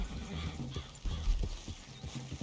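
A horse in the video game Red Dead Redemption: steady clip-clop hoofbeats with a whinny, fairly quiet and close, over a low game soundscape.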